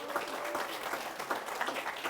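An audience at a school recognition for terrific kid students claps in steady applause, a moderately loud continuous patter from many hands.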